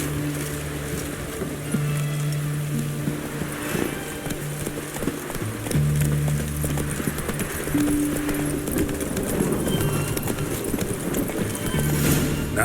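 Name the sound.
horse Roach trotting in video game The Witcher 3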